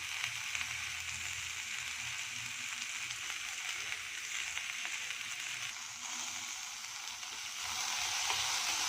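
Chopped onions fry in a pan for a shawarma-free dhaba-style paneer dish, a faint, steady hissing sizzle that swells slightly toward the end.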